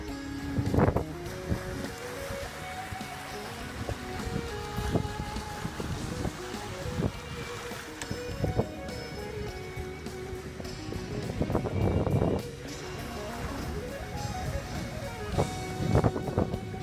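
Sailboat under sail off the San Juan Islands near Friday Harbor, with steady wind buffeting the microphone, water rushing past the hull and occasional creaks and thumps aboard, with no talking.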